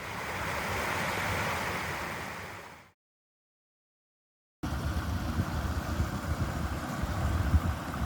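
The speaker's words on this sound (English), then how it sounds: "Pretty little waterfalls." Steady rushing water of a small waterfall at an old mill site, broadband and continuous, cut off by a stretch of silence before the splashing flow resumes, close and fairly loud.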